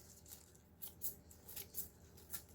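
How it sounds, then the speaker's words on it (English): Scissors snipping fresh basil stems during an herb harvest, a run of five or six sharp, quiet cuts at an uneven rhythm, close by, with no talking. "now we can use these scissors"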